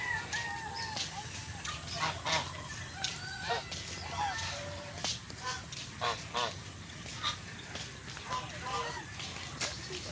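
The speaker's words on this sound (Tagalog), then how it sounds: "Ang dami niyang gansa." Many geese honking repeatedly among other farm fowl outdoors, a steady chorus of calls with people talking over it throughout.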